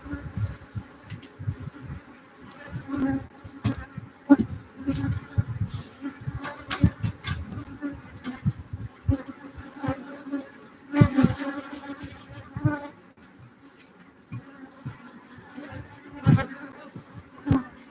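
Bees swarm around a hive, a steady insect buzz rising and falling over about eighteen seconds, with close passes flaring louder near the microphone and a few sharper bursts.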